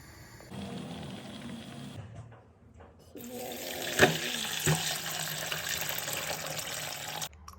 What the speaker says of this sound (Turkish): Kahvaltıdan kalan çayı da ilave ediyoruz.